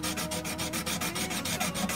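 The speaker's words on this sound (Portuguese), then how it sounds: "Vamos dar uma lixada aqui" Rapid rhythmic scratching of sandpaper rubbed back and forth, steady quick strokes, close and fairly quiet, with no talking.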